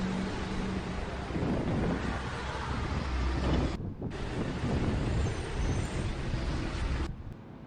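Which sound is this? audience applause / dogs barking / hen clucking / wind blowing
wind blowing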